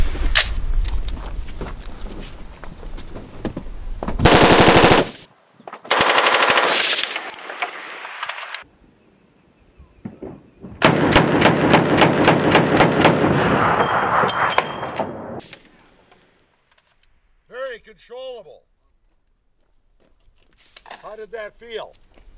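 Full-auto rifle bursts fired through a square muzzle brake at an outdoor range in Shiocton, Wisconsin, several loud sustained strings of rapid shots separated by pauses, with people talking between them.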